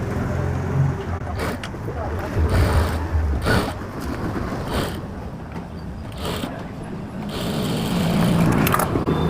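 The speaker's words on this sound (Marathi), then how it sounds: "डबल शिलाई मारणार." A sewing machine runs in uneven bursts while double-stitching the lining of a blouse with a transparent fabric bra cup, loud and close with short pauses between runs.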